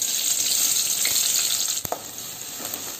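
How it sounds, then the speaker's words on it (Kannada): Finely chopped onion fries in about two tablespoons of hot oil, making a loud, continuous sizzle with one sharp clink midway before the hiss settles slightly lower. "ಈಗ ಈ ಈರುಳ್ಳಿಯನ್ನು ಸ್ವಲ್ಪ ಫ್ರೈ ಮಾಡ್ಕೊಳ್ಳಬೇಕು ಸ್ವಲ್ಪ ಕಲರ್ ಚೇಂಜ್ ಆಗುವ ತನಕ ಫ್ರೈ ಮಾಡ್ಕೊಂಡ್ರೆ ಸಾಕು"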